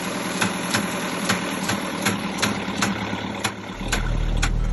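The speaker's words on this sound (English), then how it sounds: "We charge the batteries by running the engine to spin the Combi hybrid drive as a generator" A sailboat's engine runs steadily during an Atlantic crossing, spinning a hybrid drive as a generator, with a rhythmic chugging knock, loud and close, its low rumble deepening toward the end.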